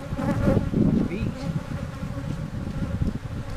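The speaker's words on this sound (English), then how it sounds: "Ooh, they're coming out of here. This is not a happy bunch of bees." Agitated honey bees pour out of an opened hive in a dense, close buzzing swarm, steady and fairly loud, with individual bees droning past near the ear.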